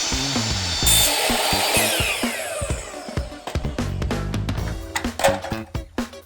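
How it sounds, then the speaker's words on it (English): A miter saw with a standard wood-cutting blade slices through a wooden fence section: the motor whines and winds down, followed by scraping, knocking and clattering wood handling up close. "I'm cutting mine with my miter saw"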